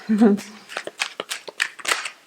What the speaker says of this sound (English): I like to shuffle with gusto